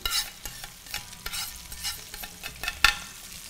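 Giant king prawns fry quickly in a hot pan for a seafood dish, giving a continuous close sizzle broken by several sharp clatters and scrapes of stirring.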